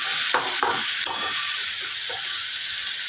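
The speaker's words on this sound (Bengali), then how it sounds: "ভেজে রাখা বড়িগুলোও দিয়ে দিলাম" Fried lentil dumplings are tipped into a sizzling spinach curry and stirred. A few quick scrapes and knocks sit over a loud, continuous frying hiss. No voices.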